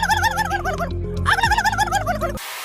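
At an international turkey-calling contest, a voice imitates a turkey gobble with rapid, warbling, yodel-like bursts, loud and close, repeated in two quick runs with a background hum.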